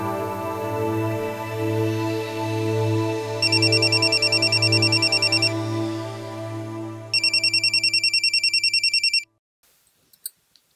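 A phone rings with an incoming call: a tonal ringtone melody plays with bursts of rapid electronic trills, then cuts off abruptly, followed by a few faint clicks.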